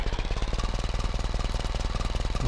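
A simulated diesel four-cylinder engine in the Automation car-building game idles with a steady, rapid, rough knocking pulse, loud and even throughout, with no voices.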